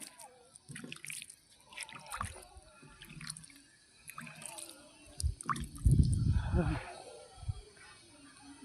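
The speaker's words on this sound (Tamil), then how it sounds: "இப்போ வந்து லைட்டாக தண்ணி தெளிக்கணுமா" Water is lightly sprinkled over freshly laid garden soil in soft, scattered drips and trickles, quiet and close, briefly swelling into a fuller splash midway.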